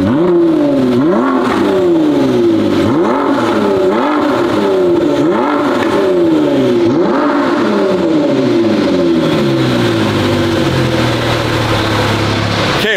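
A Ford GT engine in a garage revs hard again and again, loud and close, each blip sweeping up and falling back in quick repeated bursts before settling into a lower idle.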